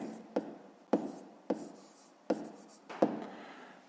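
Numbers are written by hand in steady, scratchy strokes, each starting with a sharp tap and fading out, about five of them in a regular rhythm, close and quiet with no talk.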